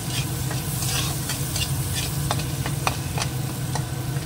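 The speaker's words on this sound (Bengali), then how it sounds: "এটার মধ্যে দিয়ে দেবো এই রসুন, পেঁয়াজ, কাঁচা লঙ্কা কুচানোটা, একটু ভেজে নেবো।" Chopped garlic, onion and green chili fry in a pan, a steady close sizzle with scattered sharp ticks and scrapes of stirring throughout.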